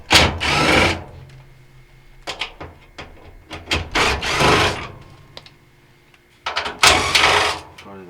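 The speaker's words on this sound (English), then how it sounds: "now we can take out the 4 screws remaining that are holding the front panel on" A power drill removes the front-panel screws of a Kenmore dryer, with several loud, close whirring bursts of varying length separated by pauses and quieter handling noise.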